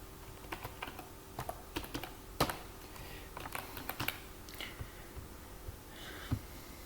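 Rapid typing on a computer keyboard while entering a password, a close, steady patter of irregular key clicks with a few louder strikes, no voices.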